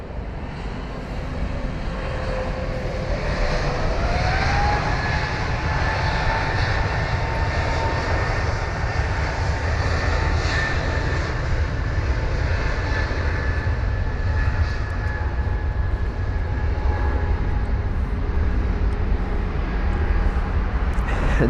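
A British Airways Airbus A320neo bound for Zurich departs Heathrow, its engines roaring loudly and steadily close by, with a rising whine that settles into a sustained high tone.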